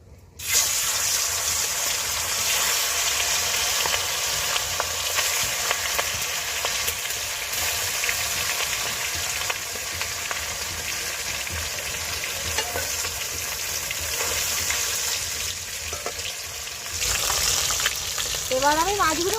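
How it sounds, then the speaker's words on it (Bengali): Pieces of silver carp drop into very hot oil in a wok, setting off a loud, sustained spitting sizzle that holds steady, with faint clatter and a brief swell near the end. "এবার আমি মাছগুলো কড়াই দিয়ে দেবো।"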